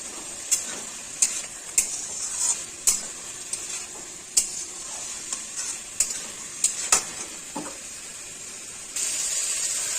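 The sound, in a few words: stir-frying pumpkin and malabar spinach in a pan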